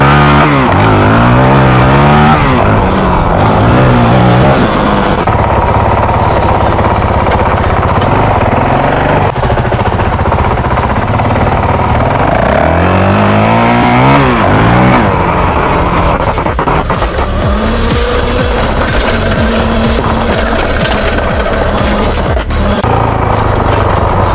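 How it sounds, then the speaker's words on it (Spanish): An Aipas off-road dirt bike engine revs loudly and continuously up close, its pitch rising and falling repeatedly as the throttle is worked. "esta sí es una dirt bike"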